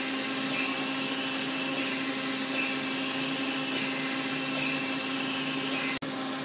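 An MTS 370.50 servo-hydraulic test machine runs with its pump on and the actuator cycling: a loud, steady mechanical whine and drone holds evenly, then cuts off abruptly near the end.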